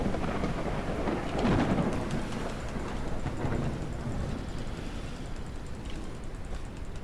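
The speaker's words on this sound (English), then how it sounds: "I don't think that rain really covers up the sound." Heavy rain pours steadily in the video game SurrounDead while low thunder rumbles and swells early on, then settles into a constant downpour with no voices.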